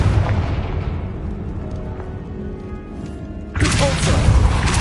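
Confringo spell explosion in Hogwarts Legacy, a loud burst that erupts sharply near the end after a rumbling, crackling stretch of combat noise.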